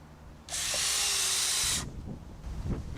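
Power driver sinking a screw about an inch into a wooden board on a wildlife pond build, one loud high whirring burst of just over a second, then quiet handling knocks.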